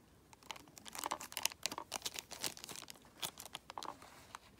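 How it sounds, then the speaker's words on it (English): Someone handles the original plastic bag holding a retro game cartridge, making quiet, close crinkling and rustling in irregular bursts, with no talking. "Still in the original plastic bag that it was manufactured and sold with."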